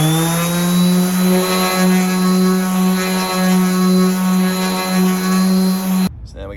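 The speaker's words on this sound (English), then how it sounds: "It's a new disc. I'm going to sand half of this." A sander with a fresh 400 grit disc works on a fibreglass boat hull, giving a loud, steady, humming motor drone with slight pulsing that cuts off abruptly after about six seconds.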